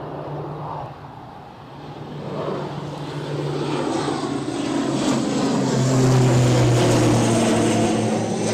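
An ATR turboprop airliner rolls for takeoff at Newcastle Airport, its propeller drone building and rising steadily in pitch and volume as it moves along the runway, with wind noise throughout.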